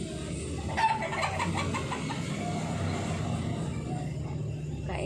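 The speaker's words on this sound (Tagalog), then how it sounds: "Daming mga dito sa mga manok" Chickens cluck and murmur close by in a yard while a woman feeds them, with a short run of clucks near the start over a low background hum.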